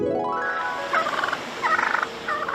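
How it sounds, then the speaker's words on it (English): Wild turkeys in Montreal gobble in repeated rapid, rattling bursts, close and fairly loud, with three clear gobble calls spaced through the clip and no voices. "the wild turkeys who were running wild in Montreal"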